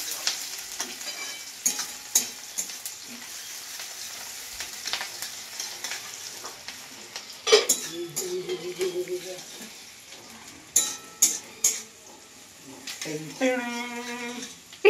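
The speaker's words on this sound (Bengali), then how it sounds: "তেল গরম হয়ে গেছে এবার এটাতে দেবো আমি দুটা পেঁয়াজ আর দুটা কাঁচা লঙ্কা কাটা" Two chopped onions and two green chilies sizzling in hot oil for crab chorchhori, a steady frying hiss with intermittent stirring clatter and brief voice sounds near the end.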